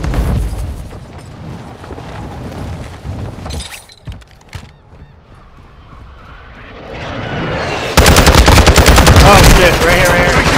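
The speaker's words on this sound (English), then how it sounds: "Taking fire!" Gunfire in the video game Call of Duty Warzone Resurgence, loud rapid automatic bursts with sharp cracks, breaking off into a quieter gap and then returning as a dense, very loud barrage.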